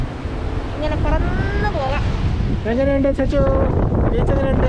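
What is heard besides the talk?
strong wind at the beach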